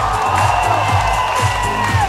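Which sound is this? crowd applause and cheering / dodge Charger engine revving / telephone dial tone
crowd applause and cheering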